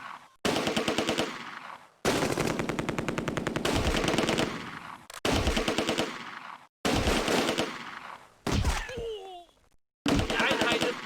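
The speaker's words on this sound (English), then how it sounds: "Machine gun. Shoot the guys crossing here." Bursts of machine gun fire in the Close Combat video game, several loud, rapid rattling volleys separated by brief silences, with game voices shouting in between.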